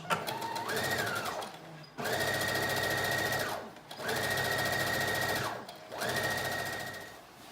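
Sewing machine stay stitching dress fabric for a one-shoulder dress, running in four loud, steady bursts of rapid whirring stitching separated by brief pauses, close up.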